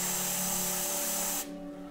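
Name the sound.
airbrush spraying paint on a Warhammer miniature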